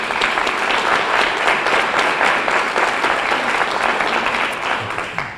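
Steady, dense applause from an audience at an annual business meeting awards presentation, loud and sustained throughout before easing slightly at the end.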